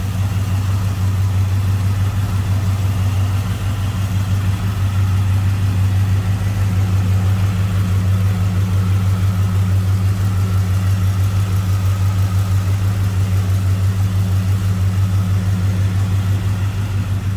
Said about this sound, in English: There's that crate. GM engine, 350, Holley 4-barrel on there